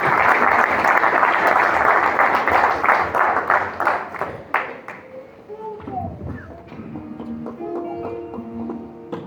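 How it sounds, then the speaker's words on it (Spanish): A church congregation claps together in a loud, rhythmic burst that thins out and fades after about four seconds, leaving quieter tones and sparse taps behind. "Un aplauso a nuestro Dios fiel, verdadero, siempre con nosotros"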